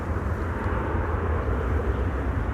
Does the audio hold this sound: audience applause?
no